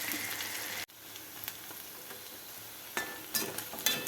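Chicken sizzles softly and continuously as it fries in oil, with a sharp clank early on and a few scraping stirs.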